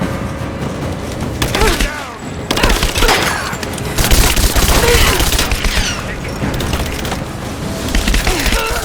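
Dense, sustained gunfire rattles through a firefight in Rise of the Tomb Raider, loud and continuous for the whole stretch with splintering impacts, while voices talk over the shooting.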